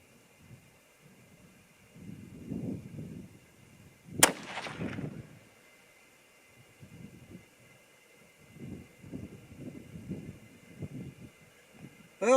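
A single sharp rifle shot from a Seekins Precision Havak Hit rifle in an open field, a loud crack with a short rolling echo, set against wind rumble and quiet background.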